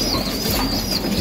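Pigeons in a loft coo and flap their wings within a steady, noisy wash of sound, close by and moderately loud throughout.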